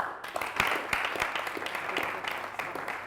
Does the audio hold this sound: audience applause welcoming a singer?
yes